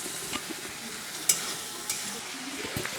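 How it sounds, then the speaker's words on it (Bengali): Spice paste for a rohu fish curry is stir-fried in oil, with a soft continuous sizzle and intermittent spatula scrapes and taps against the pan. "এবার মশলাটাকে তেল ছাড়া অবধি ভালো করে কষিয়ে নিতে হবে"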